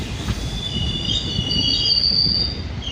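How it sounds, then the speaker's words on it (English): A train pulls into Sivok station, its wheels giving a sustained high metallic squeal over a rumbling, rolling undertone that swells and then fades slightly as the cars slow. "So as our train stops in Shebok for around 45 minutes"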